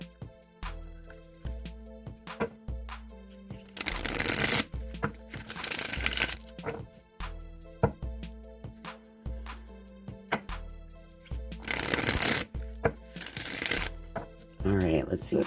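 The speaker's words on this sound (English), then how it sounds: "I'm just going to give these a few shuffles" A deck of cards is shuffled several times over a dull background, with bursts of riffling and bridging, close and crisp, alongside quiet musical tones.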